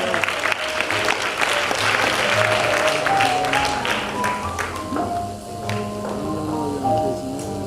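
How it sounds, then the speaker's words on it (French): Audience applause at a Congolese talent event in Kinshasa, a thick burst of clapping that gradually thins out, with cheering and tonal voices or music rising underneath toward the end. "Nous avons Emmanuela Zadi du Nord Kivu, sous vos applaudissements"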